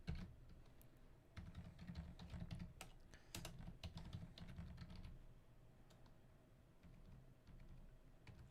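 Quiet, close keystrokes clatter on a computer keyboard in uneven bursts of rapid clicks with short pauses between them, and no voice is heard.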